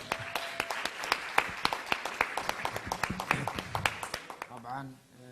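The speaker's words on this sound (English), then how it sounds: "Ladies and gentlemen, a big round of applause for Sonu Sood." A crowd at the Dubai Women's Run 2017 event claps for the actor Sonu Sood, sharp individual claps ringing out irregularly and fairly close, fading as a voice starts talking at the end.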